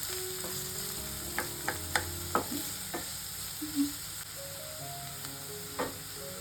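Finely chopped onions fry in a pan with a steady sizzle. Scattered clinks and scrapes of stirring sound close by, and no one speaks.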